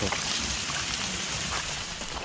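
Rain falling in a Thai forest while mushrooms are being gathered, a steady soft hiss of drops on leaves with no speech, close and even throughout.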